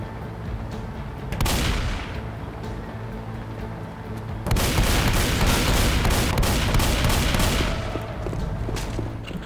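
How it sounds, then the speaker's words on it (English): Heavy gunfire from Left 4 Dead 2 survivors battling zombies at the Sugar Mill, a dense stream of shots that swells into louder, rapid volleys midway, with no talking. "Why do you keep shooting that anyway?"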